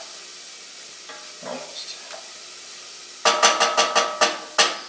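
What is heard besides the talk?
spices sautéing and sizzling in a pan for mole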